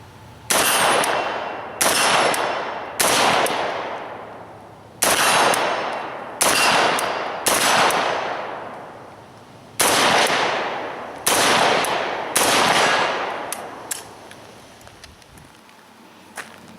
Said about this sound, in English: a little easier, obviously, with that red dot to hit those steel plates out there at 50.